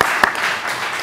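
Brief burst of audience applause at a residents' forum on construction quality and safety, a short clatter of clapping that fades quickly, with a few voices faintly mixed in.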